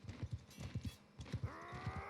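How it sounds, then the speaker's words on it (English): Hooves of a big heavy horse clip-clopping in the medieval combat game Bannerlord, a steady rhythmic trot of close, distinct thuds, with a whinny rising near the end and no talk. "The big heavy horse there and the light cavalry horse wherever it is now."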